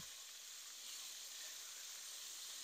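Steady broadband sizzling hiss of walleye chunks frying in hot oil, constant and close, with no talking.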